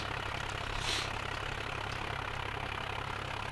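A tractor engine idles steadily in Landwirtschafts Simulator 2011, a low, even rumble that runs unbroken and moderately loud, with one brief higher whine near the start.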